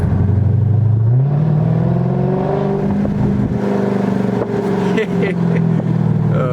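A Dodge Charger Scat Pack's engine rises in pitch as it accelerates, then holds a steady, loud rumbling drone, heard from inside the car with the windows rolled up.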